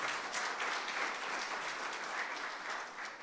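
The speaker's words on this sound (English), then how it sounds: "let's give a big round of applause for Jack" Audience applause during a Sunday morning service at All Saints Church in Pasadena, a dense, sustained clapping from a large gathering that holds steady and then tapers slightly.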